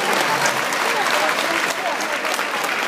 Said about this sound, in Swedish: Massor med applåder vill de ha.